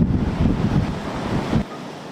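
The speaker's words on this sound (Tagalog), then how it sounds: "Dama rin ang lakas ng ulan at hangin sa Pasay City." Heavy wind roars with a rushing, rain-like wash during a storm in Pasay City, Philippines, loud and continuous, then cuts out abruptly near the end.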